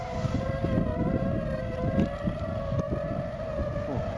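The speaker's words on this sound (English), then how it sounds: "It's a kite singing! Hear that?" A kite line singing in strong wind, a steady eerie tonal whine with layered harmonics held over continuous low wind rumble and buffeting, with no talking.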